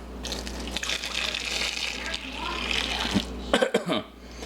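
Boiling water pours in a steady stream with a liquid gushing sound beside a turkey, while a person talks over it; the pour tapers off near the end.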